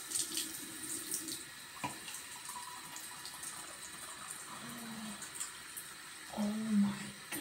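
Water runs from a sink tap in a home bathroom, a faint, steady trickle with a few small splashes and knocks, quiet and alone.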